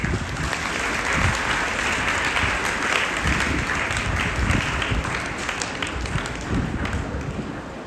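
Loud, dense applause from a large audience at a World Mental Health Day closing ceremony, a continuous wash of many hands clapping together at steady volume, easing slightly toward the end.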